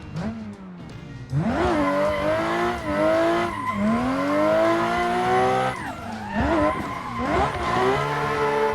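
A car drifts in a racing simulator video game, tires squealing loudly in long sweeping wails that rise and fall with the engine, steady and close with no talking.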